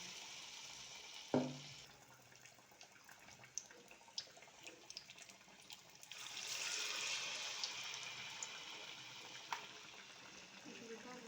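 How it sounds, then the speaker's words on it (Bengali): Raw banana fritters deep frying in oil over medium heat, a soft steady bubbling sizzle that swells louder partway through, with a sharp knock early on and scattered small crackles, close but quiet. "আঁচটা মিডিয়াম রেখে ভালো করে ভেজে নেবে তাহলে দেখবে চপগুলো খুব ভালো তৈরি হবে"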